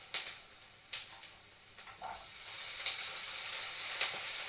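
Vegetables fry in a pan with a steady, close hiss and sizzle, broken by a few soft clicks and knocks of stirring, quiet overall and free of talk.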